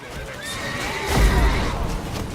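A horse whinnies in the Witcher 3 video game amid combat din and explosions, a single rising neigh peaking midway over a busy rumbling game soundscape.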